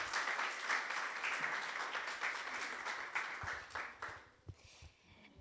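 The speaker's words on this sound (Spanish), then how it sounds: "Démosle un fuerte aplauso a la doctora Tere, por favor" Audience applause at a talk or seminar, steady dense clapping from a crowd that swells and then thins out toward the end, with a few louder individual claps standing out near the finish.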